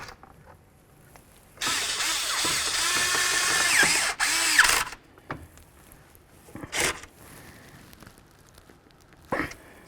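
Ratchet snugging bolts on a window regulator in a 2008-2016 Chrysler Town & Country, a loud rapid clicking run of a few seconds, then scattered short clicks and knocks.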